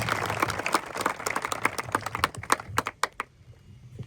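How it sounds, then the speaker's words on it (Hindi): An audience at a police training school CPR and first-aid session claps to welcome the trainer, a lively burst of distinct hand claps that thins to a few scattered claps and stops near the end. "सर के लिए एक बार जोर से, पूरी ऊर्जा से, तालियों से अभिनंदन"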